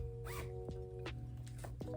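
A zipper on a piece of clothing is pulled up close by in a quiet room, making several short, quick rasping strokes in a row.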